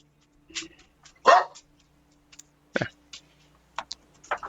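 Dogs barking indoors, a handful of sharp, separate barks and yips scattered across a few seconds with quiet gaps between, close and fairly loud over a faint steady hum.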